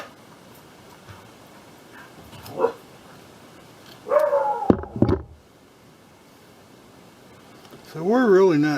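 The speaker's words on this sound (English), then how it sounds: "You can hear my dog is barking at the neighborhood." A dog barking at the neighborhood in a workshop while a refrigerator door gasket is being made, a few separate barks and yips at moderate distance, with faint talk and small knocks around them.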